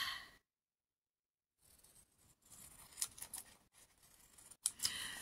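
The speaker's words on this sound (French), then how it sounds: "On va reprendre les ciseaux." Scissors snip through paper for a scrapbooking page, a handful of crisp close cuts after a short silence, with soft breathing between strokes.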